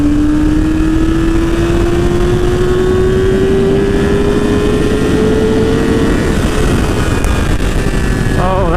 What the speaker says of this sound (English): we're gonna take the bike out and do a little ride